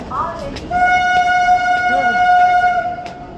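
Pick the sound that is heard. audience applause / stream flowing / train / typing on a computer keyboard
train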